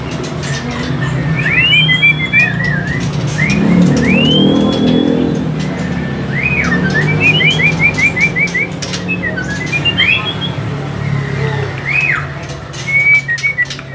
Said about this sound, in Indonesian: Oh, ini ada burung murai medan.